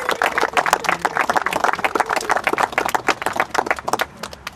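Crowd applause at an outdoor bridge dedication in Reese Park honoring contractor Bill Schreiber, a dense run of many hands clapping steadily, close and lively, tapering slightly at the end with no speech.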